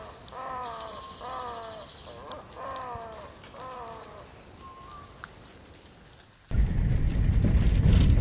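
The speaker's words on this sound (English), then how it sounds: "we spot a flock of wattled ibis, which is a bird that's endemic to Ethiopia and Eritrea" A flock of wattled ibises, an Ethiopian endemic, calls in a run of harsh, honking cries, several in succession, then a sudden rush of rain or wind noise.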